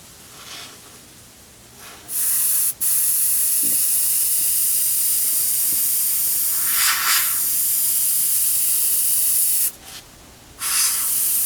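An airbrush sprays paint onto sheet metal in a long steady hiss, starting after a brief pause, cutting off once and returning, with short breaks toward the end and no talking.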